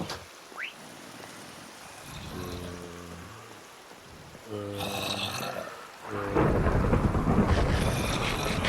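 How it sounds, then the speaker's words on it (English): Thunderstorm in the video game Minecraft, with rain hissing softly before deep thunder rumbles roll in twice, then a louder burst of heavy rain and rumbling fills the end. "It's a scary, dark, and stormy night."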